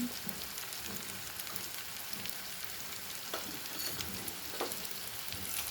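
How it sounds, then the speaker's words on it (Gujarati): Tomatoes and onions sautéing in oil with chaat masala and turmeric for Punjabi-style dahi chhole, a soft steady crackling sizzle with occasional stirring clicks, faint and alone without talk. "ટામેટાને પણ આપણે આમાં સાતળી દઈશું થોડા"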